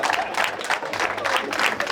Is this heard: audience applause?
yes